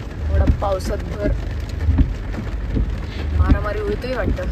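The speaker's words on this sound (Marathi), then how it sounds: "खूपच जोरात पाऊस यायला लागलाय." Heavy rain pours steadily during a drive to Mumbai, a constant close wash of noise heard throughout while people talk over it.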